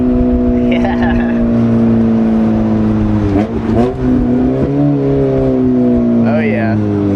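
A loud car engine with no muffler drones and rumbles on the road at steady revs, with a brief dip and rise in the middle, while voices talk over it.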